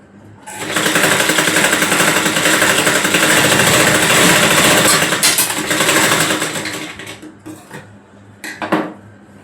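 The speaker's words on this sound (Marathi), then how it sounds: "दोन्ही बाजूला आपण शिलाई मारून घ्यायची आहे." A sewing machine runs in one steady mechanical burst of about six seconds, stitching both sides of a girl's frock, loud and close with a rapid rhythmic chatter, then it stops and a few clicks follow.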